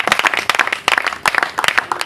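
A church congregation claps together in rhythmic bursts, loud and close, with a few voices mixed in.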